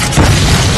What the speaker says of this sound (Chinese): 宝盒却直接爆炸了。